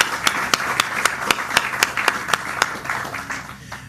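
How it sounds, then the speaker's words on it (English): Audience applause after a jobs announcement in Orlando, heard as a thin scattering of distinct hand claps at an even pace, moderately close, that thins out toward the end. "So big round of applause for all of you."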